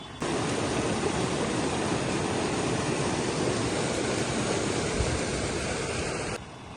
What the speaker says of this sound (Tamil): மழை வெள்ளம் வந்து அருவி போல் பாஞ்சு கொண்டிருக்கு